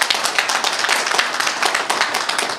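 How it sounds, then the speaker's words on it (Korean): Audience clapping at a Korean ceremony marking an association's founding anniversary, a dense, steady burst of many hands throughout, close and lively with no speech over it. "박수 한번 부탁드립니다"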